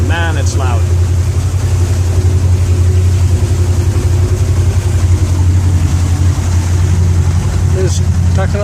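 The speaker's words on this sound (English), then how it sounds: "that engine. Man, it's loud." A loud boat engine chugs steadily at about 1300 RPM while cruising near 8 knots, a constant deep drone that dominates throughout, with a few brief chirping sounds near the start and end.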